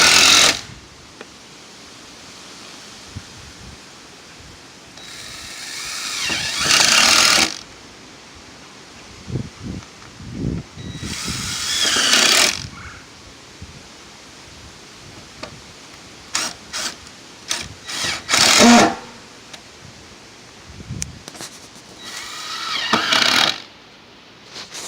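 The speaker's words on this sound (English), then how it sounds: "Put screws all the way around it." Bursts of a power drill driving screws into a mobile home's metal roof, several separate whirring runs of a few seconds each, with quiet shuffling and handling between them, fairly close.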